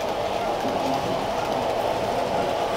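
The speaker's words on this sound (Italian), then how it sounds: "Ecco il treno, senti il rumore? L'audio del passaggio sul ponte ferrato." A model train runs across an iron bridge on a large Swiss model railway, giving a continuous dense metallic rumble and rattle that stays steady and fairly loud throughout, with no voices.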